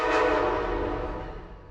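Amtrak Regional train rumbling past South Norwalk station, eastbound on track 4, a steady broad roar with a brief horn-like tone at the start, fading over a couple of seconds.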